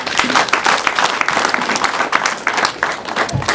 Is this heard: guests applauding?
yes